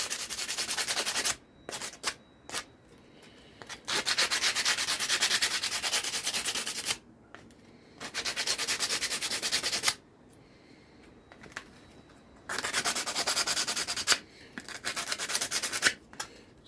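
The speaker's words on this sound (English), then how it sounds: "I'm just using a bit of 80 grit sandpaper to start with. Just taking the rough edges off." Sanding the rough edges of a wooden hidden wall storage box with 80 grit sandpaper, heard as steady close rasping strokes in four long bursts separated by brief pauses and small knocks.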